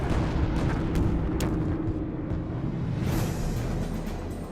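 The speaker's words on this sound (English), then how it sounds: "The Sabres must run a gauntlet of deadly radar-controlled anti-aircraft artillery" Radar-controlled anti-aircraft artillery fires during a Korean War air battle, a dense rumbling barrage of booms and blasts with a few sharper bursts standing out, loud and continuous throughout.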